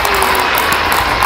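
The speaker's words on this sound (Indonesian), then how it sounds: "Beri tepuk tangan untuk tim orkestra dari Timur" An audience applauds an orchestra team with continuous, dense clapping from a crowd, loud and steady throughout.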